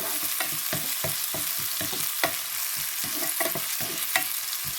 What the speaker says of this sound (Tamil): இப்போ இவ்வளவும் பருப்பு கறிக்காக தாளிக்கல மற்ற கறிகளுக்கும் போடுறதுக்காக தாளிக்கிறேன்